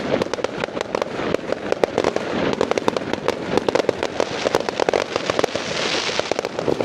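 A sustained barrage of bonfire night fireworks in Merseyside, continuous crackling explosions and sharp bangs rolling on for several seconds, fairly loud and without talk.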